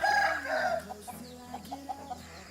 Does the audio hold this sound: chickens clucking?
yes